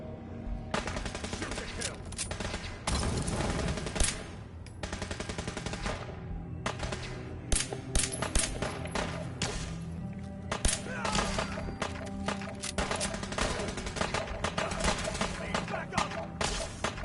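Sustained gunfire from a Fallout 4 battle, with rapid automatic bursts and single shots rattling almost without pause. Voices call out now and then beneath the dense shooting.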